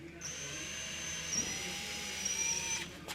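A power drill bores into the hull of an aluminum jon boat during a rudder install, a steady high-pitched whine that runs evenly for about three seconds before cutting off, fairly quiet.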